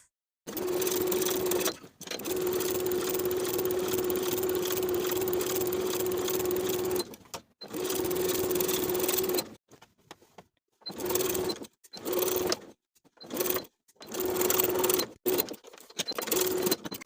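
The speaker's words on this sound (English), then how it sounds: "I'm going to top stitch around the entire perimeter of the cuff" A home sewing machine topstitches around the cuff of a shirt jacket in long, steady runs of rapid stitching, then breaks into shorter bursts separated by brief pauses, loud and close with no talking.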